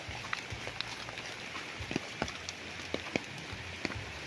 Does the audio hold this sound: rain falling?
yes